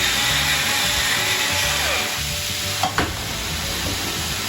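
Beef samosa filling with garlic, stock cube and pepper frying in a pan over raised heat, a steady close sizzle with a spoon scraping and stirring and a couple of sharp knocks near the end.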